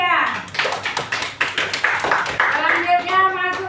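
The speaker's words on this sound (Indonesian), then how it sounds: "Mari kita beri tepuk tangan kembali untuk kelompok 3." An audience claps for a student group at a school presentation, a steady patter of hand claps lasting a few seconds while a voice speaks over it.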